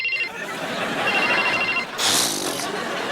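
A telephone rings with bright repeated electronic tones in a Hindi sitcom household scene, followed by a burst of a higher, harsher ringing near the end, with voices faintly underneath.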